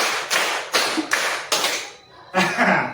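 A group claps together in a counted rhythm during a teacher coaching session: five loud, sharp unison bursts spaced about half a second apart, a short pause, then one more burst.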